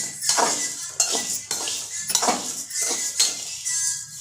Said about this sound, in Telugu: సేమియా అనేది ఇలా దోరగా ఫ్రై చేస్తున్నాను